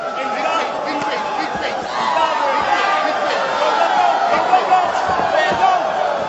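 Arena crowd at a Donald Cerrone versus Yancy Medeiros fight, a dense steady roar of cheering and chatter that swells slightly partway through, continuous and loud throughout.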